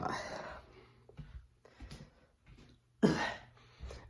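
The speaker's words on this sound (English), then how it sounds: "Sorry if I end up coughing." Two harsh bursts of coughing, one at the start and one midway, with quiet breaths, throat noises and soft murmurs in between.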